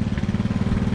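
A lawn mower runs steadily on long summer grass, its engine droning close by with a continuous, even hum and no talking over it.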